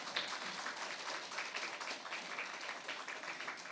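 An audience at a Korean church sermon applauds with a dense, even patter of clapping hands that holds steady throughout, moderately loud and close, with no voices rising above it.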